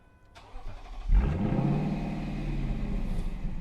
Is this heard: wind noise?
no